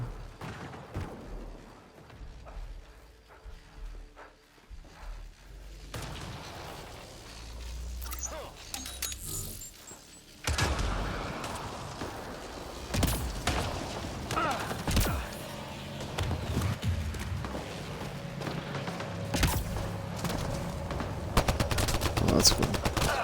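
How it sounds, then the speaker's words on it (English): Gunfire in the video game Mass Effect Andromeda crackles in rapid bursts and single shots, quieter at first and then louder and denser in the second half, mixed with game effects and intermittent talking. "Like, who's even shooting me?"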